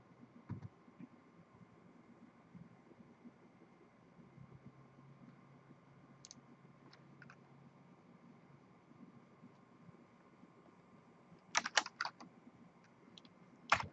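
A few sharp clicks of someone typing a PowerShell command on a computer keyboard, brief and fairly close, clustered near the end over a quiet, steady room hum.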